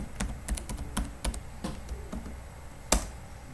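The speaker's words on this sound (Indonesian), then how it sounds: "Kemudian kita ketik ulang passwordnya yang baru." Someone types a new password on a computer keyboard, a quick irregular run of close, crisp key taps with one sharper strike near the end, with no voices.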